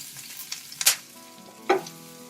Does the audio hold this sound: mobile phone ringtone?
no